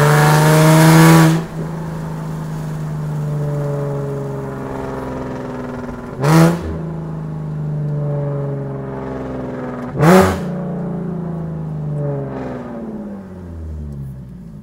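A very loud, modified Nissan 370Z heard from inside the cabin, with a deep engine drone that rises in pitch through several rev sweeps, broken by sharp blips around the gear changes, and no talking.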